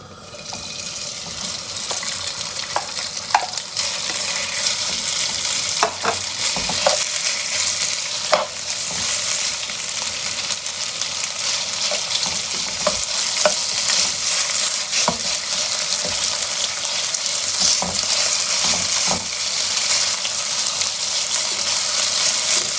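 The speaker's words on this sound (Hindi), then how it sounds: "तेल हो गया गर्म। अब इसमें मैं डाल रहा हूँ बीफ।" Beef sizzles loudly in hot oil in a continuous, dense crackle, with occasional sharper spits and scrapes of stirring throughout; no talking.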